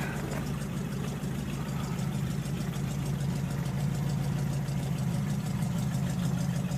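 A 1975 International Harvester pickup sits at a steady, rumbling idle nearby, its low engine note continuous and even throughout with no talking.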